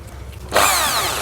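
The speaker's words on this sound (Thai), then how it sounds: "เจาะเลยดีกว่านะครับผมเดี๋ยวผมก็เจาะ" A power drill with a hole saw bit, 30 or 40 mm, bites into material while a steering wheel control is installed, starting abruptly after a quiet moment and grinding loudly and steadily to the end.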